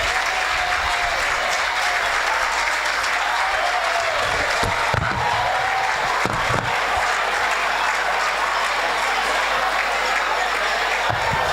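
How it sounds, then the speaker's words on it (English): Sustained applause from a conference and awards audience, dense clapping that stays loud and continuous throughout, with a few sharper bursts partway through. "Another round of applause"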